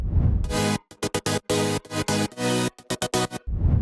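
Bright, buzzy future house synth chords stab in a choppy rhythm, cutting in and out sharply, framed by a soft swelling wash at the start and end.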